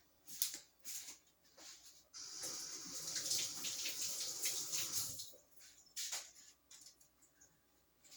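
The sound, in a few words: rinsing hands under running tap water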